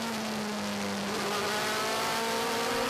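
Phoenix-team Audi DTM race car engine heard on board at Spielberg, a loud, steady high-pitched drone with a rising tone throughout, no talk.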